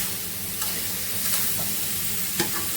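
Spices being fried bhuna-style in a pan on the stove, a dense steady sizzle close by with a few brief clicks of stirring and no voices.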